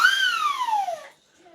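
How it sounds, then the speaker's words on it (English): A game show whistle sound effect: one long, bright, descending slide-whistle tone lasting about a second, loud and clean, followed by quiet. "And of course, the whistle."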